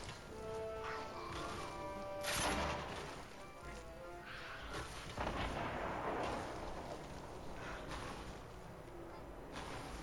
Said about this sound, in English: we'll blow some more building up